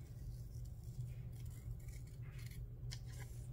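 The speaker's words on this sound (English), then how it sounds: "I'm going to cut it off about here." Scissors snip through a sticker from a sticker book, with faint quiet cutting and rustling sounds over a low steady hum.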